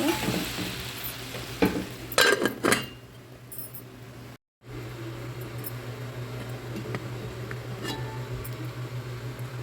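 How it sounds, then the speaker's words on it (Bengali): Fried garlic tempering poured into a tomato sour curry, giving a soft continuous sizzle under a low hum, preceded by a few clattering utensil knocks, with a brief dropout midway. "এখন সম্পূর্ণ বাগাটা আমি ঢেলে দিব"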